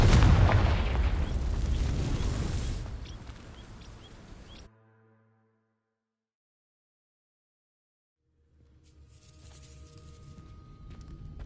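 A Confringo spell goes off in Hogwarts Legacy with a loud, booming explosive burst that rumbles and fades out, then several seconds of silence before quieter ambient game sound returns.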